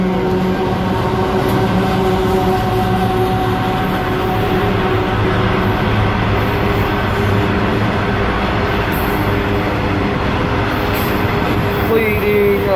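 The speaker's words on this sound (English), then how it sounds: "Loaded coal train through to" A heavy loaded coal train rumbles past close by at Hexham, a steady loud roar of wheels and rattling wagons that keeps going without a break.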